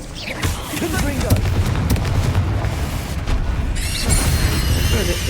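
The Confringo fire spell goes off in Hogwarts Legacy combat as a loud, booming blast with crackling bursts, while a player shouts spell names over it.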